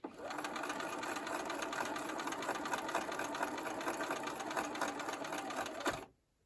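A sewing machine stitches quilt fabric with red thread, a rapid, even mechanical chatter running steadily for six seconds before stopping, close and clear, with no speech.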